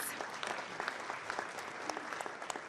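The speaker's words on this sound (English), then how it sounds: "a round of applause, please." Audience applause fills the ECOSOC chamber during a senior-level meeting: steady, dense clapping from a seated crowd, moderately loud and continuous for the whole stretch, with no talk over it.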